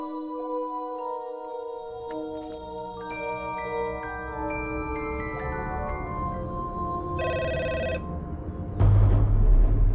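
A telephone rings with repeated bell-like electronic tones that layer into a sustained chime, loud and close, then a sudden louder burst near the end.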